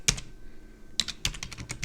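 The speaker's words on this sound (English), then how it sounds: "So in the chat box you could type" Quick clicks on a computer keyboard, a single tap followed after a pause by a short burst of rapid keystrokes, close and fairly quiet.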